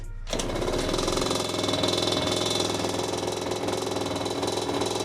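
A Gilera SMT Racing 50cc motorcycle engine starts abruptly and keeps running at a loud, steady, rapid buzzing idle with a dense mechanical rattle.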